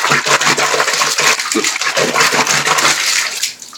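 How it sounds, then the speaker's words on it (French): Water gushing from a tap into a bathtub for hand-washing clothes, a loud, steady rushing splash heard close up that tapers off at the end. "je mets de l'eau dans ma baignoire"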